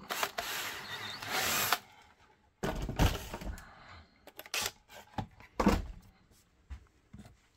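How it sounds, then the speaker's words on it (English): A power drill whirs in close bursts while drilling a Glock holster: a long run, then several shorter stop-start pulses with clunks of handling between them. "Let's drill it."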